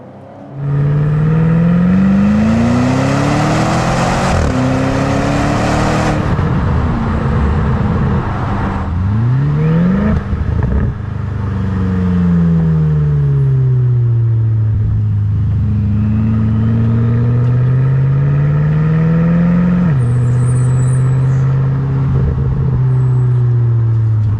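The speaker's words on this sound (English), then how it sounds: "The car just sounds like it wants to rev more." Close, loud revving from a BMW turbo V8 exhaust fitted with an X-pipe, climbing and dropping in long sweeps and quick blips, heard alone without speech.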